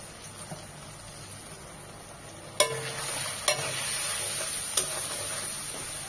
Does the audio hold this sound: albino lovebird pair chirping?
no